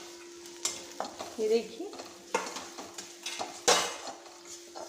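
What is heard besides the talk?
turmeric and coriander powder being roasted and stirred in pan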